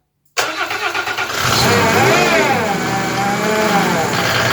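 A Mercedes OM606 diesel engine on a PN-40 motor pump with electronic injection pump cranks without glow plugs, catches after a second of rhythmic turning and then roars steadily and loudly, revving up close by.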